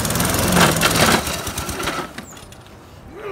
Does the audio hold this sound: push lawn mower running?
yes